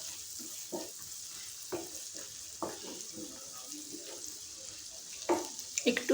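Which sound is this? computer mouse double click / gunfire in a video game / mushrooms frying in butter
mushrooms frying in butter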